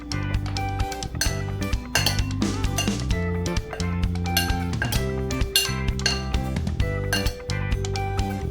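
Chopped peaches tossed with flour in a small bowl produce busy clinks and taps of a utensil against the dish, steady and close, over a background of rhythmic music.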